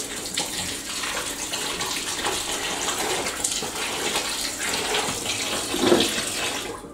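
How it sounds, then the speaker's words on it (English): Wool socks being rinsed by hand in a basin of water, with steady sloshing and splashing throughout and a slightly louder splash near the end. "Final little rinse, that'll do them."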